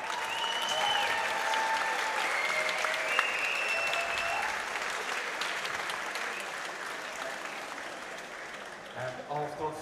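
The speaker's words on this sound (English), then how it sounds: "A huge round of applause." A crowd applauds and cheers at a Muay Thai fight after five rounds, with dense sustained clapping that slowly fades, whistles rising over it, and a voice at the very end.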